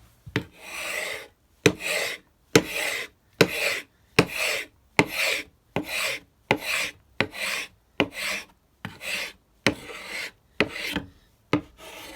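A cheap handheld paint scraper rasps across an old wooden table in about a dozen rhythmic, evenly spaced strokes, each a loud close scrape followed by a short gap.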